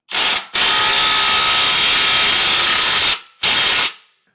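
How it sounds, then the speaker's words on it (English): A 3/4 inch socket on a power tool tightening bolts while fitting a vehicle base plate kit, a short burst then a long sustained high whir and a final short burst, loud and close. "Now we can tighten this down with a 3/4 inch socket."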